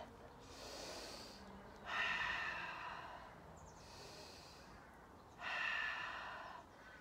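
Two slow, deep breaths taken during a yoga exercise, each a soft, airy inhale followed by a louder, breathy exhale, heard close and alone.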